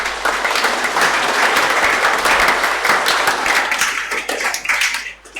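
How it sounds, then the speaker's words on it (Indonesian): A church congregation applauds at an Easter Vigil service, a dense, steady wash of many hands clapping that carries on loudly throughout, thinning slightly near the end. "Panitia, tepuk tangan untuk mereka semua."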